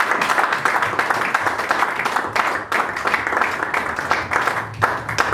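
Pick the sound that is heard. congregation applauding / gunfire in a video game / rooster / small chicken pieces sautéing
congregation applauding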